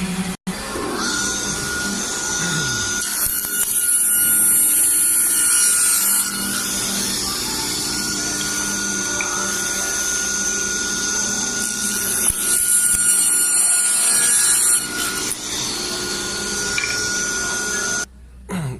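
A power tool whines steadily as it cuts a flush pull cut-out in a double hung window sash, loud and close, with pitch shifts as the load changes and a brief stop near the end.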